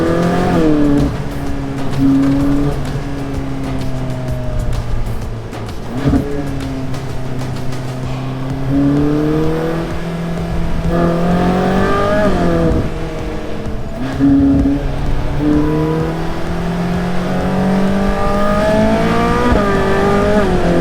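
A Ferrari Sergio Pininfarina drives through Miami, its engine loud and close for the whole stretch, revving up and down repeatedly with rising and falling pitch sweeps between gear changes.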